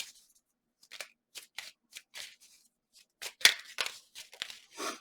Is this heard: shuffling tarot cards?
yes